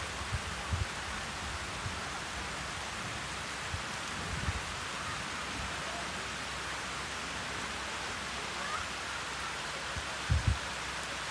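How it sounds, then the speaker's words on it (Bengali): Fairly heavy rain falls outdoors as an even, continuous wash of hiss, broken only by a few low bumps nearby. "বৃষ্টি মোটামুটি জোরে নেমে গেছে।"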